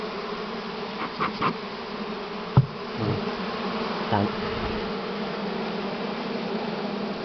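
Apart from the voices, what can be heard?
honey bees at a hive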